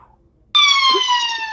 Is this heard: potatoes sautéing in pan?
no